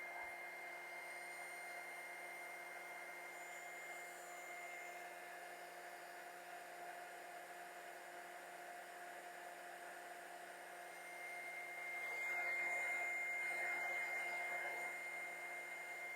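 A heat gun blows hot air onto a solder seal connector to melt the solder, a steady, faint whine and hiss that runs the whole time, swelling slightly near the end, with no talk.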